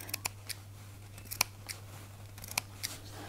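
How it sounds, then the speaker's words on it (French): Scissors snipping small notches into fabric along the curved seam allowance of a Christmas stocking, a series of sharp, quiet cuts in irregular rhythm over a low steady hum. "on va couper que le tissu, que à l'extérieur de la couture, pas à l'intérieur"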